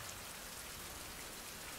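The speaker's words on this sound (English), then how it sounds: "Now it is raining." Rain in the video game Survival: Fountain of Youth, a faint, steady wash of falling rain with no talk over it.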